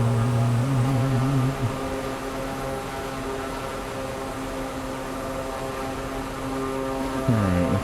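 Draco X aircraft engine in Microsoft Flight Simulator 2024, a steady propeller drone with a clear tonal hum that shifts pitch and drops slightly as thrust is rolled back, then wavers again near the end.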